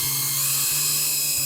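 A power drill drives screws into wooden posts, giving a close, loud, whirring spin that runs in two bursts with a short pause between them.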